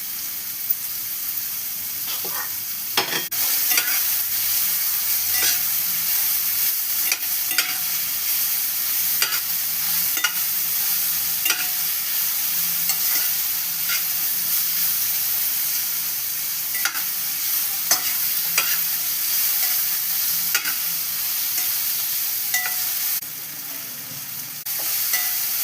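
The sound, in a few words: stir-frying snake gourd in oil in a pan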